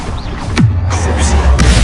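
A Bombarda spell blast in a Hogwarts game, heard as a sharp whooshing cast with a falling sweep, followed by a booming, rumbling impact and lingering crackle.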